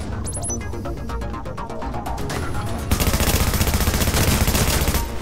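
A deployed turret in a video game fires rapid bursts, starting with a run of sharp separate shots and then building into a dense, loud stream of continuous gunfire.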